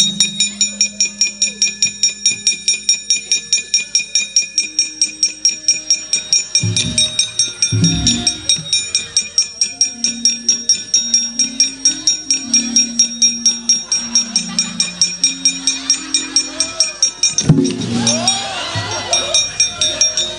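Javanese gamelan bells and gong struck in a steady repeating rhythm, bright metallic chimes ringing over low gong tones, loud and close, with a sharp louder strike near the end.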